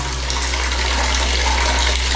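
Shower water running steadily in a bathroom, a continuous broadband hiss of spray close by with a low hum underneath, no talking.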